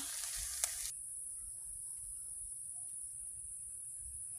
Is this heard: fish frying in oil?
yes